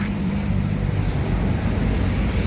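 Sinar Jaya Hino RK8 260 air suspension bus, a loud close engine rumble with steady road noise, continuous and without pauses.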